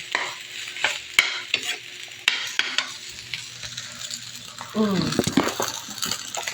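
Sinangag garlic fried rice cooking in a pan at breakfast time, with busy scraping and clinking of a spatula over a light sizzle, close and lively, and a voice breaking in partway through.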